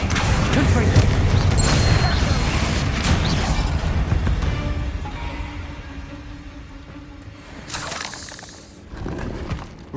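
Confringo fire-spell blasts in Hogwarts Legacy burst with loud crackling impacts and shattering debris, heaviest at the start and tapering off, with a couple of later bursts under the game's ambient sound and speech.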